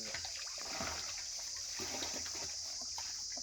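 Water splashing and trickling as containers that held liquid organic fertilizer are rinsed out outdoors on a coconut farm, a continuous moderate wash with faint background hiss.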